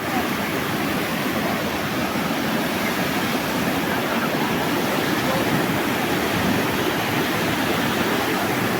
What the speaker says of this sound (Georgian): ეს ზემო მხრიდან ჩანს ჩანჩქერები